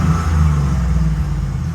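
Car engine revving through an aftermarket exhaust on a vehicle being readied for a Footbrake 150 race, a steady, fairly mild low rumble with a slight tone, close and continuous without talk.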